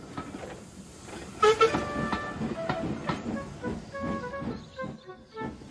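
Steam train in the Trainz video game, rolling with rhythmic clanks and clicks and tonal whistle-like toots layered through, fairly quiet and with no one speaking.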